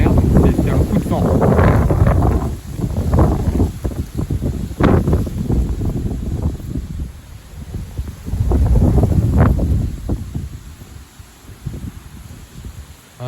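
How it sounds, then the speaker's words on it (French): Gale-force wind roars across the microphone in heavy, surging gusts that rise and fall, with a brief lull before the next strong blast. "Un joli coup de vent."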